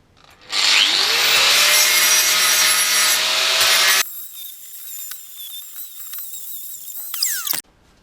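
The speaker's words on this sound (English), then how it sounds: "I might as well take a flat disc to the sides prior to welding" An angle grinder fitted with a flap disc spins up and grinds loudly against the sides of a metal front suspension arm from a Sylva Stylus for about three seconds, then spins down with a fading whine and a few light knocks.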